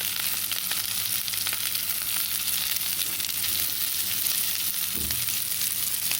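Meatballs sizzle steadily in a frying pan with a constant crackling hiss, and a single soft knock comes as one is flipped over near the end.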